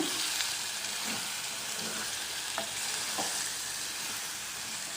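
Spiced fish pieces, rubbed with salt and chilli, going into a fish curry in a clay pot, a steady moderate sizzle with faint knocks and scrapes from stirring.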